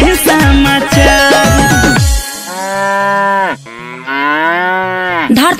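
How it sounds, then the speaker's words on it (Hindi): A water buffalo bellows loudly and close, first a run of short choppy calls, then two long drawn-out moans, with no talk over it. "भैंस ने चिचिया दिया"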